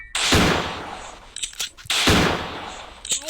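Gunshots in the horror video game Granny: two loud sharp blasts about two seconds apart, each with a ringing decay, plus lighter game clicks between them.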